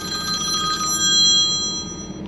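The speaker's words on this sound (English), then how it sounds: "I had to ignore that phone call here for a second." A telephone rings loud and close with a bright electronic warble that holds steady for about two seconds over a low background hum, with no speech.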